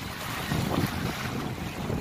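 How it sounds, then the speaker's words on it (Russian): Sea waves and wind at a busy tourist beach, a steady broadband rush of surf with gusty wind buffeting the microphone, loud and continuous. "Волны такие сегодня,"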